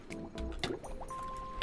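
Underwater gurgling and bubbling sounds play as a player drowns in the Minecraft video game, short liquid blips over a steady murky wash.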